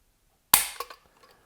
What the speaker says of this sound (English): let's get out the Lyman trigger pull weight gauge and let's test this trigger out